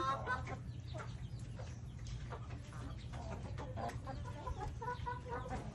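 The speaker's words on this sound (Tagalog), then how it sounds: "Ayan may mga chicken." Chickens cluck repeatedly around newly hatched ducklings and chicks, with scattered overlapping calls over a steady low hum of farmyard background.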